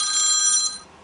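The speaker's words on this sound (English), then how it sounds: "that was my phone" A phone rings loud and close, a bright electronic ring that holds steady, then cuts off and leaves a faint tail.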